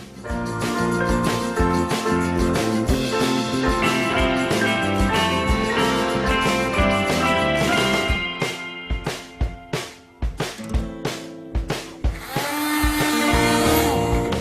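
A kitchen blender whisks parsley, toasted nuts, olive oil and grated cheese into a sauce: a loud steady whir that breaks into short stop-start bursts near the end, then runs on again.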